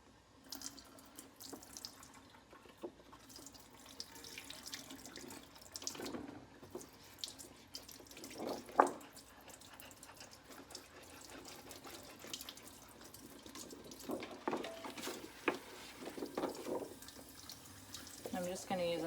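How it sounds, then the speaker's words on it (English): Tap water running into a sink while a cutting mat is rinsed, a faint steady splash with occasional louder spatters and knocks as the mat is moved under the stream. "And then we'll rinse it off."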